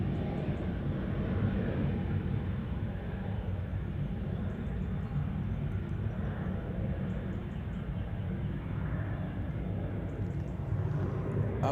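A Pilatus PC-24 business jet takes off from Manchester Airport, bound for Guernsey, its engines a steady, broad, loud roar that holds evenly throughout without pause.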